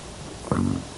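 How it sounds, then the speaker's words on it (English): One close, loud, low burp of about half a second, breaking through a steady background hum during a gaming stream. "excuse me, I burped, that was disgusting"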